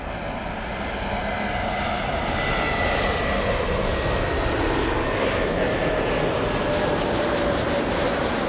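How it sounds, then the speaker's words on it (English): A Delta Airbus A321neo arriving at LAX from Fort Lauderdale produces a steady, loud jet engine roar with a faint whine, holding constant throughout with no talk. "We have Delta 800, an Airbus A321neo flying in from Fort Lauderdale,"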